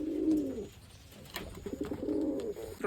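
A trained pigeon coos nearby in two low, throaty phrases separated by a short pause, with faint rustling between them.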